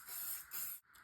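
Makeup setting spray misted in two quick hissing bursts, close and faint, the first slightly longer than the second.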